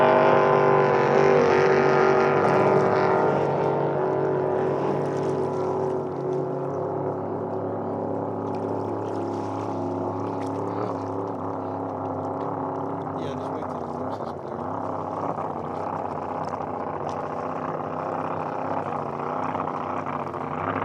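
Racing powerboats roar at the 70th Thanksgiving Regatta, a loud sustained engine drone with shifting pitch that stays steady and close throughout.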